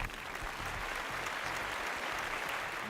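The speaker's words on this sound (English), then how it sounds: "Give them a round of applause." A studio audience claps for a competing team on an engineering challenge show, dense, even applause sustained across the whole moment.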